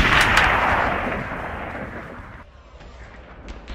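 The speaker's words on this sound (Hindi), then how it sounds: "अचानक से फायरिंग शुरू हो गई। गोलियों की बरसात हुई।" Sound-effect gunfire of police shooting on a crowd: a heavy, loud blast that rolls and decays over a few seconds, followed by a couple of faint pops.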